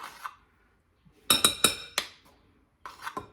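A metal teaspoon clinks against a container while scooping baking powder for a cornbread mix: a few sharp, close ticks in quick succession, a pause, then two more light clinks.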